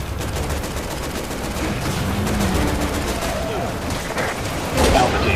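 Gunfire in the Resident Evil 6 video game, with dense bursts of rapid shots rolling continuously over a noisy battle backdrop. A heavier blast lands near the end.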